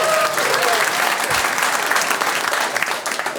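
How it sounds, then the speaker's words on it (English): Loud, sustained applause from a comedy club audience during a stand-up set, a dense wash of clapping filling the room throughout, with a few faint voices mixed in. "What you're not gonna do is not clap for my kids."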